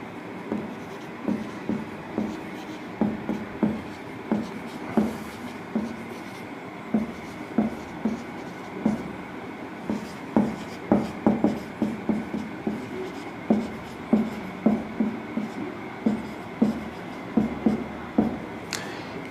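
Chalk on a blackboard as a teacher writes a definition in a physics class, steady runs of short tapping, scratching strokes with brief pauses, close and fairly loud.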